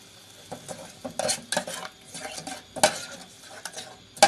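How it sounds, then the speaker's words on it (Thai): Thai curry paste stir-fried in a pan with thick coconut cream added for a beef and pumpkin curry, with repeated scraping and clinking of a metal utensil against the pan and a faint sizzle underneath. "จะผัดให้พริกแกงของเราหอม เติมหัวกะทิลงไปค่ะ"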